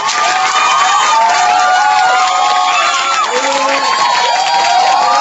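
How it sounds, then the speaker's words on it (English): A dense crowd cheers loudly and without a break, with whoops and shouts rising over a constant roar, played as a sound effect on a radio show. "And I like that cheering a little better."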